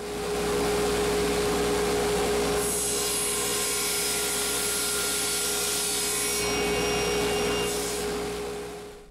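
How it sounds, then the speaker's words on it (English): A table saw fitted with a fine-tooth melamine blade cuts through ebony: a loud, steady motor drone, with a sharper high-pitched scream as the blade bites into the wood for several seconds before easing off, no voices. "I fully realize that I could have used the bandsaw here, and it probably would have worked out okay. However, I'm a lot more comfortable with the table saw."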